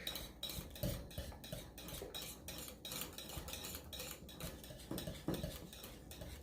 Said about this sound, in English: So you have to whisk it up just to get it moving.